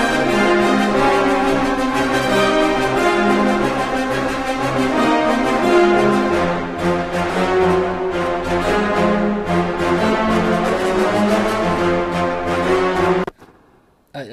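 Rhythmic brass section from the CineBrass sample library, driven from just two MIDI channels, plays a dense, loud, sustained ostinato with layered chords for about thirteen seconds before cutting off abruptly, with no talking.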